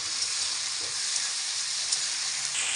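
Onion, tomato, ginger and green chili paste sizzles steadily in hot oil in a pan, a close, continuous frying hiss with no breaks.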